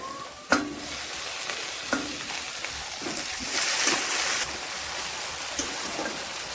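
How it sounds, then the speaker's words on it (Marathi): Tomatoes and browned onion sautéed in a pan for anda bhurji: a steady close sizzle with repeated scraping stirs and clicks of a spatula against the pan, one sharp knock near the start. "टोमॅटोला पण असं आपण छान परतून घेऊयात।"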